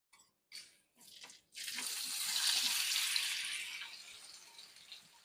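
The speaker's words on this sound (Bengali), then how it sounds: "এবারে আমি ভেজে রাখা সবজিগুলো এর মধ্যে দিয়ে দেবো" Fried summer vegetables drop into hot spiced oil, giving a few short knocks and then a sustained loud hiss of sizzling that slowly fades, close by.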